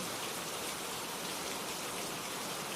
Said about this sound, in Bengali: সেই দিন সারাদিন বৃষ্টি হয়, রাতেও সারা রাতই বৃষ্টি হয়